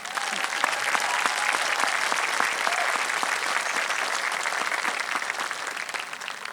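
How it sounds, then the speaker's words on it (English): Audience applause at a high school graduation ceremony, a dense steady clapping from a large crowd that holds at an even, fairly loud level throughout with no talk. "yes, they deserve a clap"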